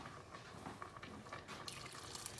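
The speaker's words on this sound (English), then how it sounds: "So we are going to have to put some more water in." Freshly boiled water from a kettle pours into a pot of chicken broth, a short splashing, gurgling stream with no talk over it.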